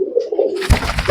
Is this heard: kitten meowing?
no